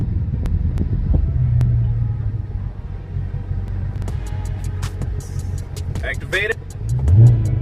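A Dodge Charger Redeye holds launch control at 1,400 RPM with a deep, steady engine rumble and wind buffeting, swelling into a heavier roar near the end, while a person speaks briefly.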